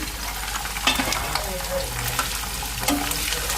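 Green chilies, curry leaves and ginger pieces sizzling in hot oil in a pan, a continuous loud crackling fry with occasional stirring scrapes and pops.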